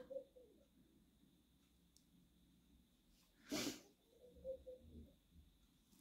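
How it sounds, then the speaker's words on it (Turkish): A turtle dove coos from nearby during indoor cross-stitch work, a low soft call repeated a few times beneath quiet room noise, with a sharper burst in the middle. "Benim kuş geldi yine. Benim bir tane kumrum var."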